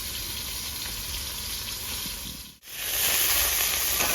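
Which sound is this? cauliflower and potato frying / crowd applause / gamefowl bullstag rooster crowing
cauliflower and potato frying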